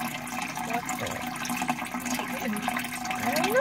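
A small waterfall in a turtle tank pours steadily, a close, continuous splashing and gurgling rush of water that holds an even level without speech.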